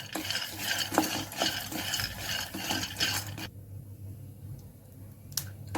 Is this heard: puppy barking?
no